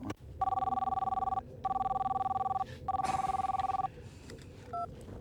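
An old telephone bell rings in three long, loud bursts separated by short pauses, followed by a brief click and a faint tone, with no talking during the rings.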